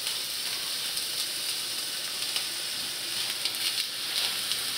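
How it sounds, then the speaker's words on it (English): Onions sizzle steadily in hot oil in a pan for green borsch with sorrel and wild garlic, a continuous bright frying hiss with small crackles and pops, close and moderately quiet, with no talking. "I'd use that to fry my onion in"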